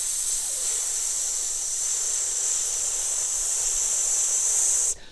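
A singer lets breath out slowly through the teeth as a long, steady, even hiss held for about five seconds, close and alone, cutting off abruptly at the end.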